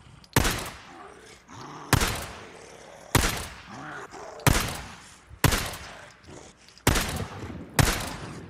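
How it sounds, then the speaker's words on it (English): Shotgun blasts from the game Days Gone: seven loud, sharp booms spaced about a second apart, each trailing into a short decay, with faint grunts and background noise between them. "Couple shotgun blasts"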